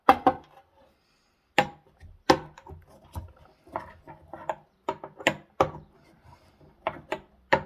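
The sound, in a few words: crushing herbs for an herbal concoction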